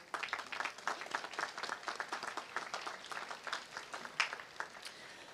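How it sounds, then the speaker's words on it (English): A crowd at a 2023 college commencement ceremony claps for the platform guests, a fairly quiet, steady patter of many hands that thins slightly toward the end. "Please join me in the applause."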